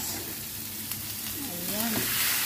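Mung beans and meat sautéing in a pan over a flame set too high, with a steady, close broadband sizzle and a brief faint tonal voice-like sound midway.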